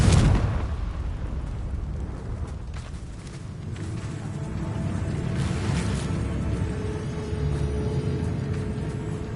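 Fire and blast spells from Hogwarts Legacy erupt in a loud, sustained rumbling burst with crackling debris, a heavy explosive roar filling the whole stretch.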